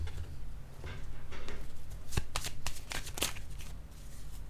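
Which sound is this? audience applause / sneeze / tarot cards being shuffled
tarot cards being shuffled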